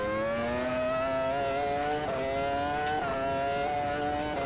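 An F1 race car in a racing video game at Imola holds a steady, high-pitched engine drone at high revs, with slight dips in pitch around gear shifts and no talking.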